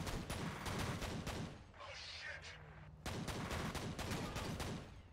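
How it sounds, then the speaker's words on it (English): Pistol gunfire in the shooter game F.E.A.R., with rapid, loud bursts of repeated shots that pause briefly in the middle and then resume, mixed with game sounds. "these pistols pack a punch"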